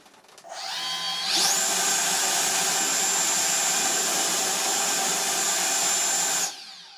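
A 50mm electric ducted fan in an Arrows Hobby L39 Albatros model jet spins up to a loud, steady high-pitched whine with a rushing airflow roar, holds full power for about five seconds, then cuts off.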